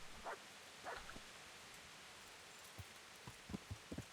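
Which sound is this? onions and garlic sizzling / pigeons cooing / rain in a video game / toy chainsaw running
rain in a video game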